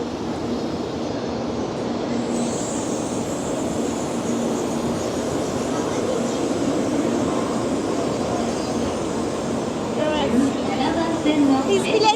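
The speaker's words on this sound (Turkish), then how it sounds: "Çekeyim size treni." A train in Kyoto, Japan rumbles steadily throughout, a broad continuous roar with faint rattling, growing slightly louder and busier toward the end.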